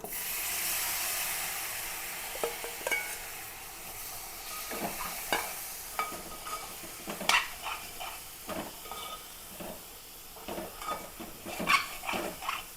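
Cooked meat is stirred into masala in a pan. A spoon scrapes and clicks at an uneven pace against the metal over a soft, continuous sizzle.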